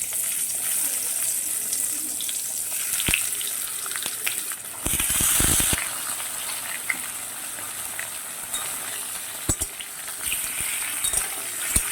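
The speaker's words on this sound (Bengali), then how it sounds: "তেলটা আমার গরম হয়ে গেছে আমি কাঁকরোলগুলো একে একে ছেড়ে দেবো" Pieces of spiny gourd (kakrol), lightly coated with turmeric and salt, fry in hot oil in a wok, giving a steady close sizzle with bursts of louder spitting and a few clinks and stirs.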